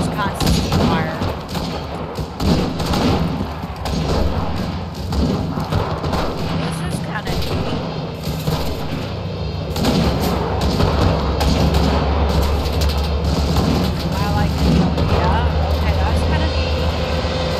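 Constant gunfire, artillery booms and aircraft drone fill a World War II battlefield in the shooter Enlisted, a relentless layered din of shots and thuds, with a voice speaking over it at times.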